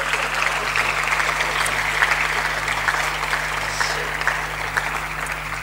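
A conference plenary audience at a 2017 summer event applauds in a steady, dense round of clapping over a faint low electrical hum, with no speech.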